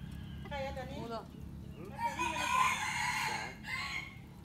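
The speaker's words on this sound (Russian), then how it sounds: "Наверное, бойцовский" A Thai rooster crows loudly and nearby in Thailand, one long strained call after a brief clucking start, with a low steady hum underneath.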